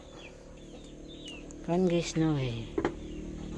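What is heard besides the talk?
chickens clucking on a farm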